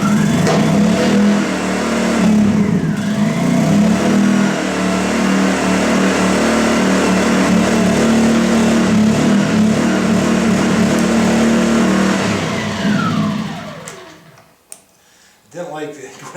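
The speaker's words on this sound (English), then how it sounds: "Alright, here we go. Let's see what she runs." A Champion 2000 watt stackable inverter generator starts up and runs steadily at a loud, constant drone for most of the clip, then cuts out and quiets near the end.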